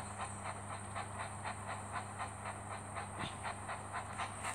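Steam train hissing in the Thomas & Friends Minis video game, a steady hiss over a low hum with a faint rhythmic clickety-clack running throughout, game sound with no talking.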